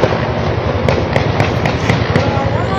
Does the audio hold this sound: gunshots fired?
yes